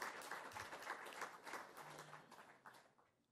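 Audience applause at a mobility and AI conference, a brief burst of clapping from a seated crowd that fades out toward the end.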